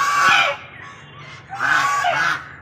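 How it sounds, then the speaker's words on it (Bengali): Ducks at a temple pond honk and call loudly in two short bursts with a pause between, close by and harsh. "এই যে এখানে কিন্তু প্রচুর হাঁস আছে"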